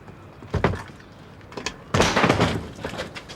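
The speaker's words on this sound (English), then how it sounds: "Do you want me to kick this door in" A door is kicked in during a tense police standoff, with heavy thuds and bangs near 0.6 s, 1.6 s and a loud crashing impact around 2 s, followed by rattling clatter.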